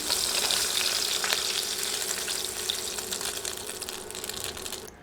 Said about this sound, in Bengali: এভাবে উল্টে পাল্টে মাছ ভেজে নিতে হবে